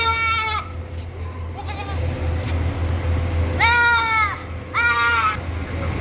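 A goat bleats loudly and close several times in wavering calls, first two shorter bleats then two longer ones, over a steady low rumble of background noise on a livestock sale recording.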